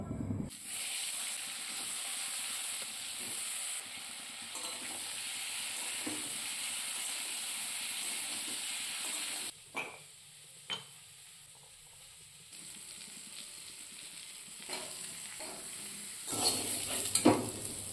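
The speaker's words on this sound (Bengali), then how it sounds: "এখন এঁচোড়গুলোকে এই তেলের মধ্যে ভেজে নেব।" Boiled green jackfruit frying in hot oil, a continuous bright sizzle close by with a few stirring clinks and brief bursts partway through, no voices.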